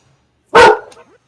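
A single sharp dog bark, loud and close, with a short fading yelp or whine just after it, standing alone in a quiet moment.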